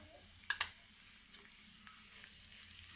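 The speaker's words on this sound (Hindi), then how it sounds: "अब हम इसमें थोड़ा सा ज़ीरा डाल देंगे कि वो भी फ्राई हो जाए।" Cumin seeds going into hot oil with ginger and garlic for moong masoor dal, giving a soft, steady low sizzle with a couple of sharp clinks near the start, close but fairly quiet, no voices.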